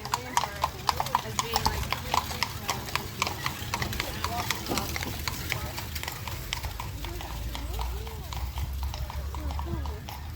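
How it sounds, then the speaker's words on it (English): Horse-drawn carriage in Colonial Williamsburg, hooves clip-clopping in a steady, fairly close rhythm on the street, with outdoor ambience and someone talking over it. "This is a horse-pull carriage."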